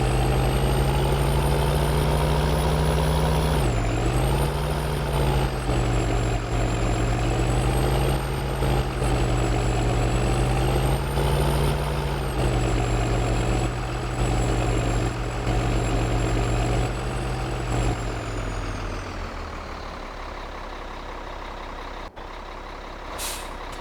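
Truck engine in the video game Farming Simulator 2013, a loud steady diesel drone that shifts pitch with the revs, then cuts off near the end with a short sharp air-brake hiss.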